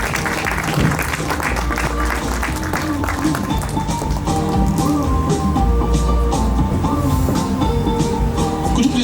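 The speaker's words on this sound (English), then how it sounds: "A round of applause, please." Audience applause at a conference hall event, sustained and loud throughout, mixed with a dense wash of background music or crowd noise and low rumble.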